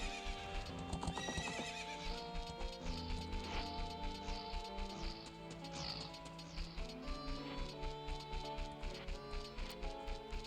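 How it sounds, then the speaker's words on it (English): Horse in Zelda: Ocarina of Time on the N64, rhythmic clip-clop hoofbeats running steadily with an occasional whinny over in-game music. "Can I ride a horse here?"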